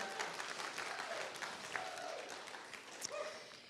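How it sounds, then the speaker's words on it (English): A church congregation applauding prayer chaplains, a soft, fairly distant wash of many hands clapping with faint voices and an occasional brief cry mixed in. "You can applaud them"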